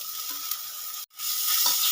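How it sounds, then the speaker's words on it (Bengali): Ginger garlic paste with chopped green chillies fries in a pan with a steady sizzle and scraping stirs, broken by a brief drop to near silence mid-way before the sizzle returns louder. "এবার আমি কাঁচা আদা রসুনের গন্ধটা যতক্ষণ না যায় ততক্ষণ আমি একটু নেড়ে নেব"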